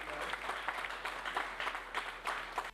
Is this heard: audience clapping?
yes